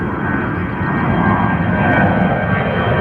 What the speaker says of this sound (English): Another, is that an EasyJet? EasyJet 320?